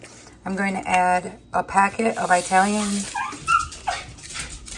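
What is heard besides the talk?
dog whimpering, unhappy at being left inside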